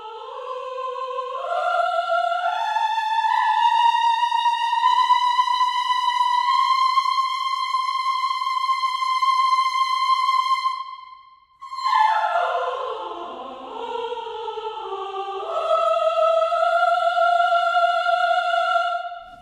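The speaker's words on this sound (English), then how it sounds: "Metropolis Ark 1 has the choir woman legato and is very epic." Women's choir from the Metropolis Ark 1 orchestral sample library singing a sustained, epic legato line. Long, smooth vowel notes glide from pitch to pitch, pause briefly near the middle, then resume, loud and unaccompanied by talk.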